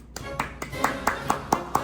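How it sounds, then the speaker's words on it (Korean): A small group of people clapping in unison indoors, about eight crisp, evenly spaced claps close to the microphone, with a faint voice underneath. "아 일단 박수"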